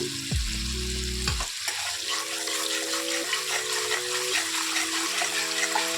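Food with salt and turmeric is stirred and fried in a pan, a steady close sizzle with scraping spoon strokes, set against a soft melodic background tune.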